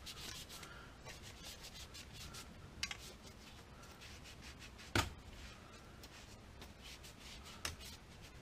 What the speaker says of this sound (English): I make sure I clean my handles of my rods really well